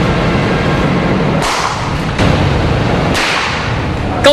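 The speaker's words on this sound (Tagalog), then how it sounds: "Para masukat ang lakas ng tinaguriang pambatang paputok, inilagay namin ito sa kamatis at nakarolyong bond paper." A Piccolo firecracker packed into a tomato and a roll of bond paper bursts with sharp, loud cracks, two distinct blasts about two seconds apart over a steady hiss of background noise, ending in a brief high squeal.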